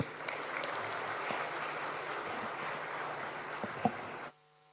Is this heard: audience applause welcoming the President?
yes